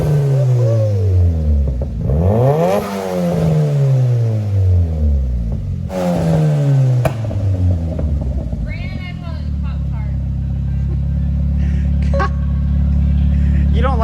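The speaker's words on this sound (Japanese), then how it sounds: "ちょっとエンジン吹かしたら結構いい音するね" A Nissan Silvia S14 with a tuned SR20DET engine revs loudly and close several times with sweeping rises and drops, then settles into a rough idle while people talk.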